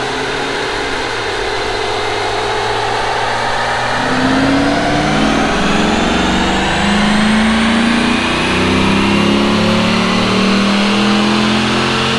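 Factory LS3 V8 in a C6 Corvette revs steadily upward through a fourth-gear pull on a chassis dyno, a loud, continuous engine roar climbing in pitch for about twelve seconds with no talk over it.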